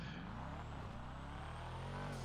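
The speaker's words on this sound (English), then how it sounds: "Listen to that engine sound." The Sultan RS car's engine in GTA Online hums steadily with a rich, layered drone, loud and close, alone with no talk.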